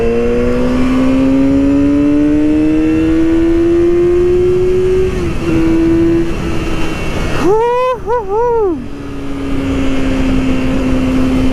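A Yamaha R6 sport motorcycle engine drones loudly and steadily while riding on a cold day, pitch climbing slowly, then briefly dipping and rising in quick revs before settling back, with heavy wind noise throughout.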